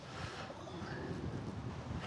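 Wind gusting across an open golf course, a low rumbling buffet against the microphone that swells and eases without pause, no voices heard.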